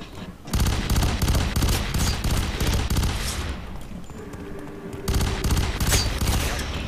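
Sustained bursts of rapid automatic assault rifle fire in the multiplayer shooter F.E.A.R. 3, loud and close, pausing briefly midway before another burst of continuous shots.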